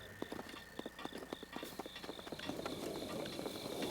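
Rapid clip-clop of horse hooves at a gallop in The Legend of Zelda: Breath of the Wild, a quick steady rhythm of sharp thuds growing slightly busier toward the end.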